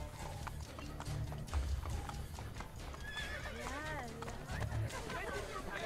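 Horse hooves clip-clopping at a steady pace in the video game Assassin's Creed: Brotherhood, with a horse whinnying partway through and a voice talking over the game sounds.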